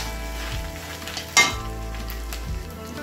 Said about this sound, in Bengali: এখন আমি ভালো করে এই তেলের সাহায্যে মুড়িগুলোকে মেখে নেব।